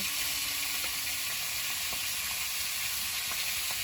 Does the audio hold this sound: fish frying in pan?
yes